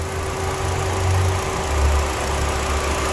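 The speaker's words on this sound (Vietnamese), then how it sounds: "Máy êm. Đó, máy đang hoạt động. Độ êm ru." A 2017 Kia Morning's engine idles smoothly, giving a steady low rumble with faint mechanical vibration that holds evenly throughout, with no speech over it.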